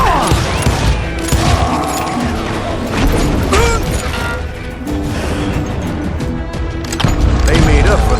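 Guns fire in the Call of Juarez Gunslinger game, loud bursts of shots mixed with crashes and mechanical clatter across a busy battle, with voices heard at times.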